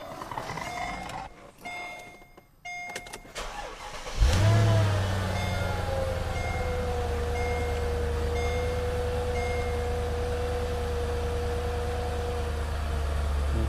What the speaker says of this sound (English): now we're going to start the car after the valve block replacement